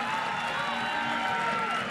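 A crowd at an Auburn Tigers versus Tennessee Volunteers college softball game keeps up a steady, distant roar of cheering and scattered whoops under a broadcaster's voice.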